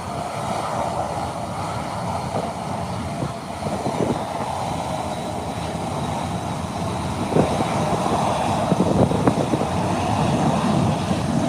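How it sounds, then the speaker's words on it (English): An Embraer 120 turboprop airliner lands and touches down with a steady, loud engine roar, a few brief thumps and rattles near the end. "here comes another landing, touching down smoothly"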